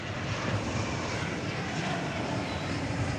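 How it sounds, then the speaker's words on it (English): An American Airlines Airbus A321 jet sits idling while it waits its turn at Dallas Fort Worth airport, giving off a steady, unbroken engine roar with no talk over it. "Here once again is that American Airlines Airbus A321 waiting its turn."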